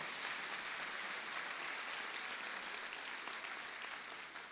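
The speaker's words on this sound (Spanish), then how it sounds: "Un aplauso para los baby boomers." A congregation claps together during a church sermon, a steady, even wash of many hands heard from a distance, fairly quiet and continuous, easing off slightly at the end.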